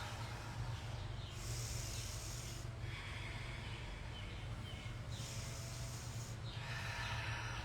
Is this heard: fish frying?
no